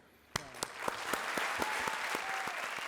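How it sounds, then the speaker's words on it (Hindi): Audience applause on a comedy TV show starts with a few loud claps and swells into steady clapping from a crowd, with a faint voice in the background. "जोरदार तालियां"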